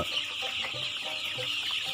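A dense flock of about 550 chickens, Tiger breed chicks on a farm, clucks and chatters nonstop at close range, the calls overlapping into a steady busy murmur.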